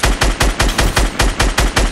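Rapid automatic gunfire in the video game Fortnite, fired during a Tilted Towers battle royale fight: a steady, loud stream of evenly spaced shots, about four per second, continuing without a break.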